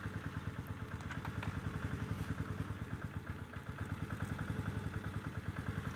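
A moped scooter idles nearby, its engine thumping in a quick, steady, low pulse while the frame vibrates and clatters continuously, fairly quiet and alone without talk.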